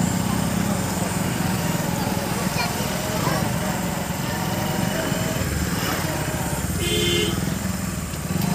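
Vehicle engine running steadily close by while searching for parking amid a crowded festival gathering at Rajapur, with continuous crowd noise and voices throughout.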